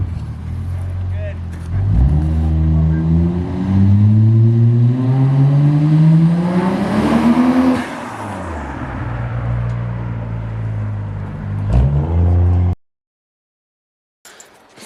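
A car pulls away up a road, its engine note rising loud and close through a long climbing rev, dropping and climbing again as it shifts, before the sound cuts off abruptly.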